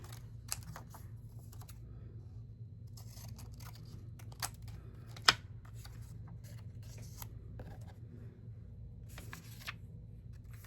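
Scissors cutting small paper scraps for a planner give quiet, scattered snips and clicks over a low steady hum, with one sharper snap near the middle.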